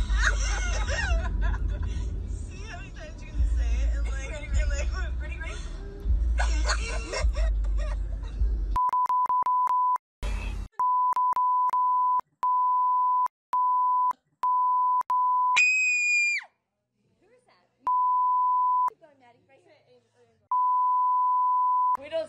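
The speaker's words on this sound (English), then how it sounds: "we beeped it so many times because that's how many times they said it" Someone talks briefly before a string of steady electronic censor beeps, some short, some long, repeatedly cutting in over muffled voices.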